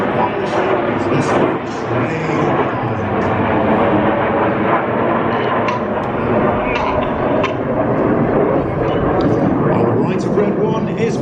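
Red Arrows BAE Hawk jets fly aerobatics at an air show, their continuous roaring engine noise filling the air throughout, with crowd and commentary mixed beneath.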